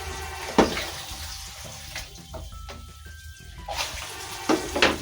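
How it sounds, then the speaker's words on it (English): Jute mallow and cowpea leaves rinsed under running water, a steady splashing flow with a few louder sloshes near the start and end. "So I'm gonna rinse this too"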